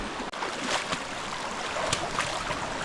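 A river flows beside farmland, its steady broadband wash and rush continuous and fairly close throughout, with a few brief splashy accents and no talking.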